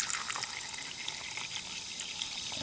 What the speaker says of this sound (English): See if I can do this with a hose.